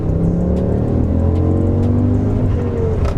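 A turbocharged car accelerates hard on a timed run, its engine loud and close with rising, sweeping pitch as it pulls through the gears, with no talk over it.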